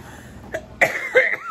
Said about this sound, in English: So if I cough, don't mind me.